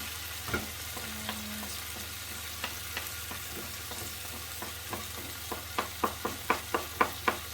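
Garlic and lemon zest are stirred in a hot frying pan, giving a steady low sizzle with scattered crackling spits that grow sharper and more frequent toward the end, with no voices.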